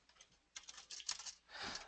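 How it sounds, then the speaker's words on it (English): Quick bursts of typing on a computer keyboard, with soft irregular clicks close by and brief pauses, quiet overall. "I'm typing some answers."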